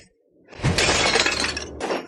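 A crystal or glass part shatters in a workshop, giving a sharp crash of breaking followed by a brief second burst of tinkling fragments, loud and close, with no talk.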